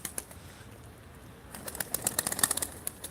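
Live pigeons at a bird auction flap their wings in a quick burst of fluttering beats, close by and growing busier after a quiet start.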